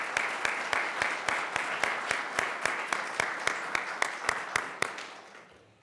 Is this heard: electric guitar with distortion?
no